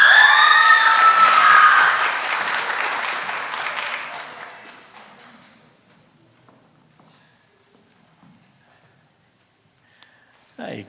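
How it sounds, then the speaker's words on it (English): Audience applause at a college spring honors night, loud at first with some cheering, then thinning out and fading to near silence after about five seconds. "So let's give Zoe a big round of applause."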